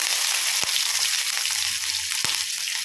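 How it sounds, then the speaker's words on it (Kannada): Mustard seeds, curry leaves and green chillies sizzle and crackle loudly in hot oil, a dense steady hiss with a few sharp pops, no talking. "ಎಣ್ಣೆ ಬಿಸಿ ಆದಮೇಲೆ ಸ್ವಲ್ಪ ಸಾಸಿವೆ"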